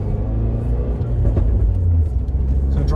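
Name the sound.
tuned car driving on road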